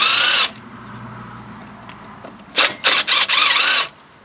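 A power drill runs briefly, then after a pause whirs in several short loud bursts as it backs screws out of a vehicle panel; nobody speaks.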